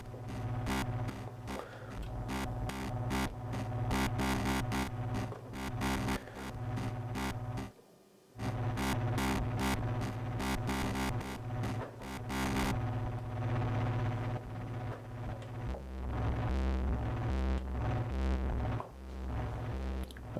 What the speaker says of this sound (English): So I'm using this Moog distortion as well. It's a full band distortion by DPW.